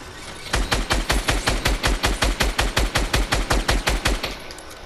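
Rapid automatic gunfire in the video game Fortnite, a loud, close, evenly spaced burst of about twenty shots lasting nearly four seconds.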